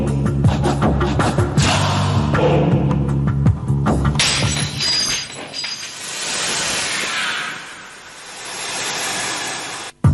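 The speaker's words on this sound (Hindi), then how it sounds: "सॉरी इंस्पेक्टर, बॉटल तो टूट गई।" Glass bottle breaking in a crime drama scene: a loud crash and shatter, then a long spill of tinkling, scattering shards that thins out, ending in a sharp final clink.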